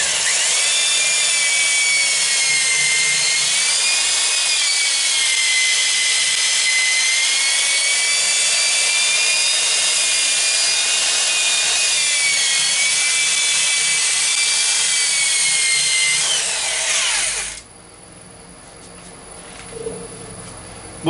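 A wooden bowl being power-sanded with finishing oil on a sandpaper disc: a loud, steady abrasive whir with a whining hum that runs evenly for about seventeen seconds, then cuts off to near quiet.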